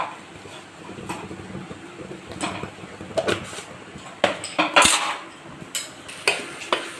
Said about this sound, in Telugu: తాలింపు పొడి కలిసేలా బాగా కలపాలి.